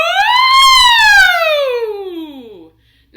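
One voice imitates a fire truck or ambulance siren on an "ooh" during a K-2 singing warm-up. It glides up and then slides smoothly down in a single loud sweep before dropping to silence.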